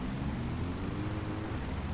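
A military vehicle in the Metal Gear Solid V: The Phantom Pain game rumbles steadily at an enemy base, a constant low engine drone with a hissing noisy layer, unchanging and alone.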